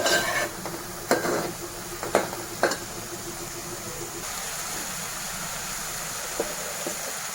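Onions frying in oil in a pan for a Telugu fish curry, giving a steady soft sizzle with a few sharp scraping stirs early on and fainter ones later, heard close with no talking.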